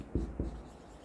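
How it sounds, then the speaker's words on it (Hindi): Marker or chalk writing on a board during a classroom lesson, two quick quiet scrapes close together followed by faint soft rubbing. "मैं यहाँ लिखती जाती हूँ"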